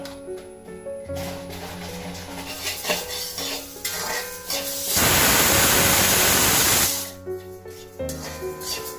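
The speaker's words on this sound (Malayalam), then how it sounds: "രണ്ട് വിസിൽ വന്നു കേട്ടോ." A loud, steady hissing whistle from a pressure cooker rises for a couple of seconds amid kitchen clatter and a faint hum.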